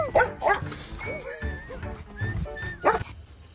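A big dog gives several eager barks and yips, close and fairly loud, mixed with whimpering whines and a person's voice talking alongside.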